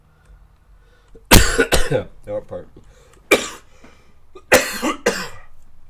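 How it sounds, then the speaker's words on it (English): A person coughs sharply a couple of times, close up, with short bursts repeated after pauses and a few quiet words in between. "I did say I still cough."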